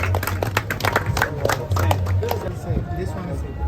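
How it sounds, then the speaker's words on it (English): Students at a technology skills showcase clapping for themselves, dense, loud hand claps with low voices and movement under them that thin out toward the end. "Clap for yourself. Clap for yourself."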